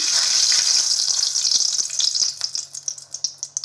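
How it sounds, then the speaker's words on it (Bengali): Dried red chilies sizzle and crackle as they temper in hot oil for chicken kosha, a dense frying hiss at first that thins into sharp, separate pops and spits toward the end. "এই শুকনো লঙ্কা ফোড়ন দিচ্ছি"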